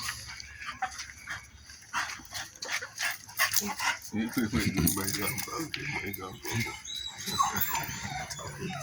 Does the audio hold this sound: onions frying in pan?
no